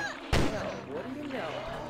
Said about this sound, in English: The gunfire doesn't seem to bother him that much.